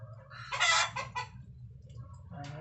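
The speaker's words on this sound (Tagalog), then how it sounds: "Siya pa yung mga manok namin." Chickens cluck and squawk in short bursts close by, with a rooster-like call rising near the end over low ambient rumble.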